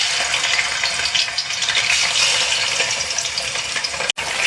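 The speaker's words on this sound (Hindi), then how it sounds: "तो ये मैं घी में ऐड करके इसको फ्राई करती हूँ।" Chicken fries in hot ghee with a loud, steady sizzle, close to the pan, with no talk over it.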